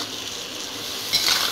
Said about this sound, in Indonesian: kita aduk-aduk lagi.